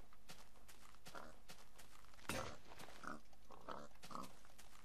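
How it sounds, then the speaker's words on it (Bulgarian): Pig grunts from Minecraft, several short oinks spaced through the clip, mixed with game footstep sounds and other busy in-game noise at a steady level. "Сега пък и прасе."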